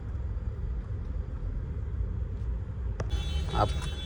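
Cars crawl through a congested roadside stretch near Alandi, a steady low traffic rumble with a sharp clack and a brief louder passing swell near the end.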